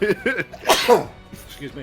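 A single loud, close sneeze bursts out in the middle of a tabletop gaming session, with a person speaking briefly just before and after it.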